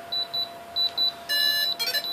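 Short high-pitched electronic beeps from a DX6i radio transmitter binding to a 350 QX quadcopter, in spaced pairs, then a faster run of bright tonal beeps with a steady faint hum underneath.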